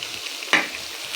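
Pieces of taro root (arvi) fry in hot oil, giving a continuous soft sizzle with one sharp scrape of a spatula partway through, nearby and unaccompanied by speech.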